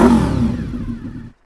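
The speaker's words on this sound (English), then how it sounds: "this is the exhaust I've got on currently. It's a Hawk stainless silencer." Honda VFR motorcycle fitted with a Hawk stainless silencer, revving loudly up close and then settling as the engine note fades out near the end.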